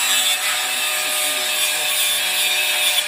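Steel fence post pipes being welded on a fence build, a continuous close hiss and crackle of the arc that holds steady for the whole stretch.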